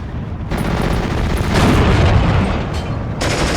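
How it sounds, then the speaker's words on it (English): Mortar impacts booming against infantry mix with rattling MG-34 machine-gun fire during a World War II battle in Steel Division 2. The loud, dense barrage swells in the middle and carries on without a voice over it. "Mortars are going in against these infantry. Hitting down one of them. This MG-34 is doing its job."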